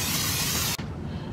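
Cooking spray hisses onto a cookie sheet in two close, loud bursts, a long continuous spray followed by a shorter one after a brief pause.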